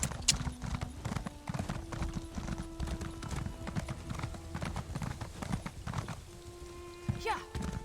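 Rhythmic clip-clop of horse hooves in the video game Elder Scrolls Online, steady and fairly close, with a brief whinny near the end and a voice talking underneath.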